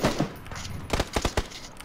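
Gunfire in a first-person shooter video game during a fight near a shed, a quick burst of several sharp shots around the middle, with a rougher muffled noise before it.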